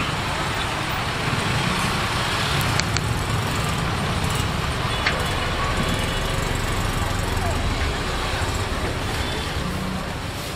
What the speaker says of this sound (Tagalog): So, nagkakaroon na po talaga ng traffic.